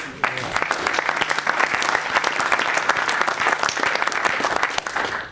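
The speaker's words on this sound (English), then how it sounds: "I think you should give him a round of applause." Audience at a property investment seminar breaks into steady, loud applause for a speaker, dense clapping sustained evenly for several seconds before tapering slightly at the end.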